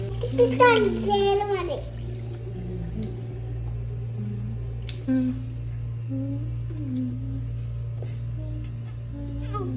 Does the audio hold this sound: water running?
yes